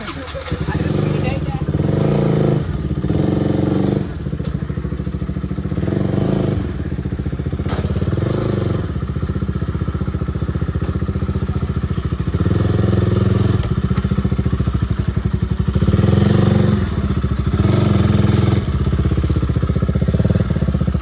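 A motorcycle engine rumbles loudly and close with a low, pulsing throb and occasional thumps and rattles over rough ground near a forest, while people talk over it throughout.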